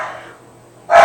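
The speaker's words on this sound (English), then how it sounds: "the dogs are going crazy" Dogs barking in a house, a couple of loud close yelps, one fading out at the start and another bursting in abruptly at the end, with quiet between.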